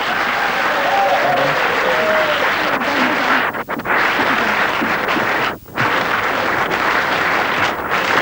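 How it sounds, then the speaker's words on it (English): A TV quiz show studio audience gives loud, sustained applause that fills the room, with two brief dips in the middle. "Give them a round of applause."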